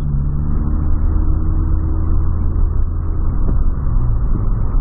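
A car engine drones loud and steady from inside the vehicle, a dense low rumble with slight surges in traffic and no clear braking sound, with no talk over it.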